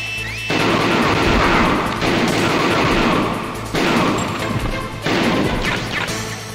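Loud, dense gunfire from the video game Metal Gear Solid: sustained bursts of rapid shots and crashing impacts, split into several long volleys with brief gaps, filling the foreground.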